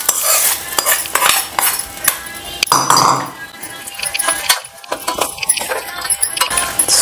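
Hot tempering poured from a small pan into pongal for an Aadi Friday pooja, a sizzling splash with metal clinks and stirring scrapes, close and fairly loud, with brief background voices.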